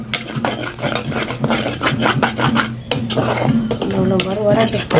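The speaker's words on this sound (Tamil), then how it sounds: "இந்த சட்டியை கழுவி போட்டு வெங்காயத்தை தாளிப்போம்" A pot is scrubbed and rinsed, then onions are tempered in it: loud, close scraping, rubbing and metallic clatter run almost nonstop, with a voice faintly present at times.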